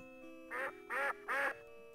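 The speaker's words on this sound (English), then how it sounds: "What's quacking?" Three nasal duck quacks from Sam and Max Hit the Road, evenly spaced and loud, over a steady low electronic hum, no speech.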